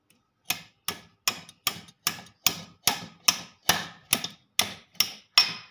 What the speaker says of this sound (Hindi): अभी ये जो बेयरिंग है पहले इसको ठोक देना है आपको